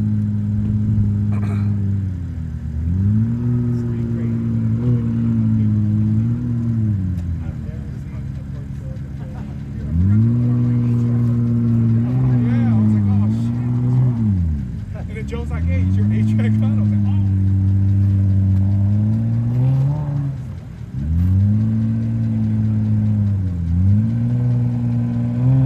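A mid-pitched six-cylinder truck engine with a cut exhaust revs repeatedly on a steep hill climb, rising and falling in steady surges close by, with voices talking over it.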